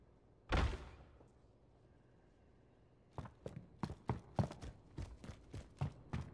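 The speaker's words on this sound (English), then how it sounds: "I heard a door here." A door in the Call of Duty: Warzone video game opening with one heavy thump, followed after a pause by a run of rhythmic footsteps on a hard floor.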